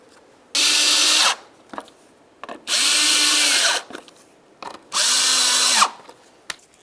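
A power tool tightens rivet nuts on the front bumper of a 2006–2010 Ford Explorer in three loud, steady whirring bursts of about a second each, with short pauses and light handling noises between them.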